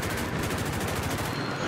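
Dense, loud bursts of cannon and machine-gun fire from a War Thunder aircraft battle, rattling continuously with rapid overlapping shots and no pauses.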